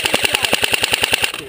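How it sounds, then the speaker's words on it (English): Rapid automatic gunfire laying down cover fire in a video game set in the Siege of Sarajevo, a steady burst of about a dozen evenly spaced sharp shots, loud and close. "Hey, somebody lay down. Cover fire."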